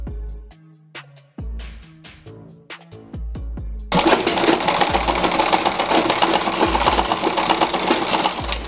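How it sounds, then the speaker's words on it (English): A sewing machine stitches and backstitches a seam on a Versace-style gown. A few short, choppy bursts of stitching give way to a steady, loud, continuous run with no talking. "I'm going to backstitch so that it locks it in one place"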